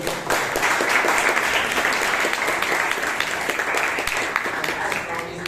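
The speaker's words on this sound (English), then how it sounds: "can we have a round of applause?" A Toastmasters club audience in Bangalore gives a round of applause, loud dense clapping sustained throughout with scattered sharper individual claps near the front.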